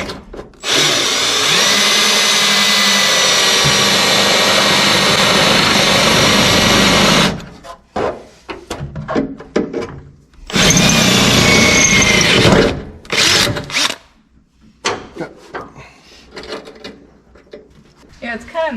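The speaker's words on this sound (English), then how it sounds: "come in with the drill." A loud power drill whirs continuously for several seconds during cooling system work on a 1974 Chevy C20, stops, then runs again in shorter bursts, with clanks and handling noises in the pauses.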